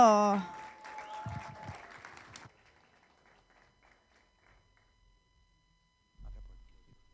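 An audience at a Christian conference in 2018 applauds a speaker with a short, moderate burst of clapping that fades after about two seconds into near silence. A voice briefly returns at the end.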